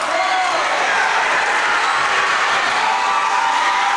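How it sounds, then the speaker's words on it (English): Loud, dense roar of a crowd cheering at a high school boys' basketball game in a gym, steady and unbroken throughout with no clear pauses. "The crowd is going insane."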